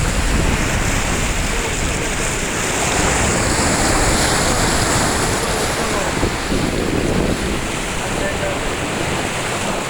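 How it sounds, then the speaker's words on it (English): Rushing waves and churning white water surge around a racing sailing yacht, with heavy wind buffeting the microphone in a constant loud roar. "Lots of white water."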